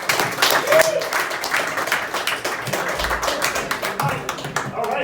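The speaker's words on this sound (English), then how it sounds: "Come on, give me your applause." A New York City crowd claps and applauds steadily throughout, dense and sustained, with cheering voices mixed in.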